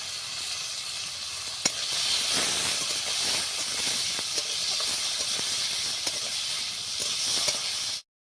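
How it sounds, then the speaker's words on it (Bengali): Cut eggplant pieces frying in hot oil make a dense, steady hissing sizzle with faint stirring ticks throughout, stopping abruptly at the end. "ওই তেলের মধ্যে দিয়ে দিচ্ছি কেটে রাখা বেগুনগুলো।"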